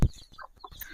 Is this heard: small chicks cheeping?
yes